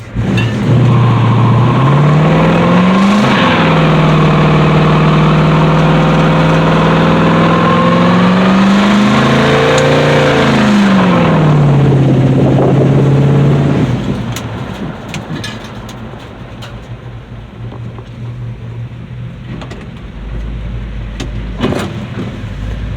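Dodge D150 Mopar pickup engine held with line lock on, revving loud and close in rising and falling surges for about fourteen seconds, then settling to a lower steady idle rumble.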